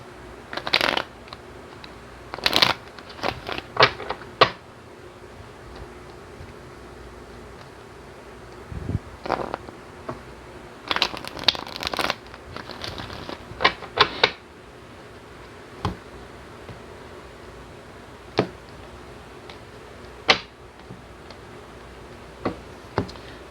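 Tarot clarifier cards are shuffled by hand in repeated bursts of crisp riffling and flicking, close and clear, separated by quiet pauses with occasional light taps, and no talking.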